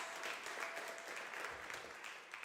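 Faint applause from an audience for the Mountain River Taiko drum group at a community gathering concert, a soft, steady patter of many hands heard from a distance, alone without talk.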